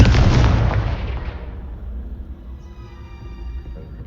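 Confringo blasting spell in Hogwarts Legacy, cast in the prefect's bathroom: a loud, broad explosive blast at the start that rumbles and decays over a couple of seconds, leaving a faint ringing tail.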